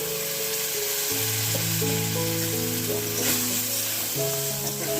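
Eggplant slices fry in a pan with a steady, close, continuous sizzle, accompanied by sustained tonal notes in the background.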